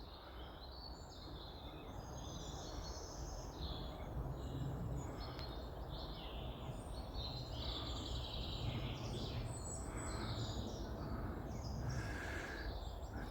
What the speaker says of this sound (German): Aufnahme im Wald mit Vogelstimmenkonzert.